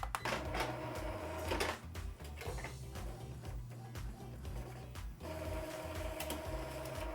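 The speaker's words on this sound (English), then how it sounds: "I'm gonna run a nozzle check to see what it's looking like now" An Epson EcoTank printer prints a nozzle check page, sounding as a continuous low mechanical hum with rhythmic whirring and ticking of the print head shuttling back and forth, close and steady throughout.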